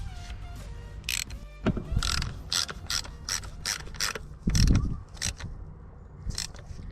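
A ratchet wrench snugs down the rocker cover bolts on a Mini R53 engine, producing close, sharp clicking strokes in a steady run, with a heavier clunk of the tool midway.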